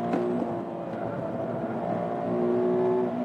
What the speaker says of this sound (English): Also not quite sure if it has what I expected in terms of a flat 4 engine note.